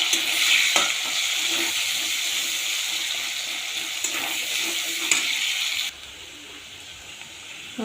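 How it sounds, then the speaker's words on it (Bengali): Chopped onion fries lightly in a hot pan with a steady loud sizzle, punctuated by occasional stirring scrapes, the hiss dropping noticeably near the end. "তারপরে দেব পেঁয়াজ। পেঁয়াজটা হালকা ভাজবো।"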